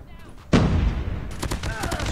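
Rapid automatic gunfire bursts out close and loud in a shooter video game, a dense fusillade of rounds with sharp repeated cracks, while a voice talks over it.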